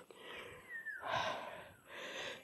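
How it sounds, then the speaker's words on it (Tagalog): A person panting out of breath after climbing on a countryside outing, with rapid, loud breaths and gasps close by, under a faint background. "Hingal ah."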